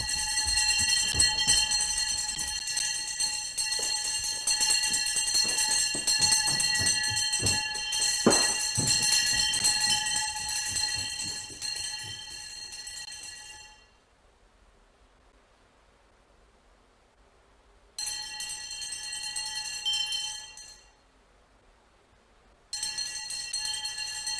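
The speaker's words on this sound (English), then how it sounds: "The day of the training monks begins with the wake-up bell." Zen monastery wake-up bell rung at four in the morning, a sustained metallic ringing with rich overtones that sounds for several seconds, falls silent, then returns in two further bursts.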